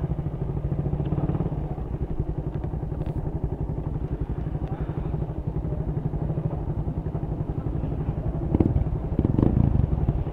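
Kawasaki Barako 175 motorcycle with a loud modified exhaust, its engine thumping steadily and close throughout, with a harder rev surge near the end.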